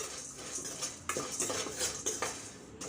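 Sunflower and watermelon seeds roast in a dry pan with repeated metallic scraping and clinks of a spoon against the pan, a busy stirring rhythm over a low background hiss.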